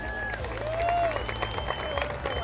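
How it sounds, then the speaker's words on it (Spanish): Guests at a wedding at the Vail Golf & Nordic Clubhouse applaud the newlyweds with steady clapping and cheers, and voices call out over the applause throughout. "Un aplauso."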